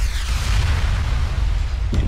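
A dense, continuous low rumble of heavy cannon blasts in the video game Soul Worker, with a sharper explosive burst near the end.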